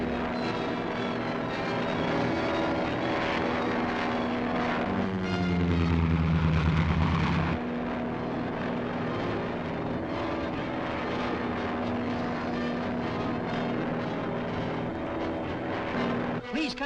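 Propeller airplane engine droning steadily in flight in a 1941 film scene, loud and continuous, with a deeper surge in the middle.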